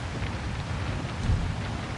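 Steady rain in a Gran Turismo 7 race at Tokyo Expressway in a Gr.3 Mitsubishi, a constant broadband wash with low rumbling underneath and a slight swell near the end.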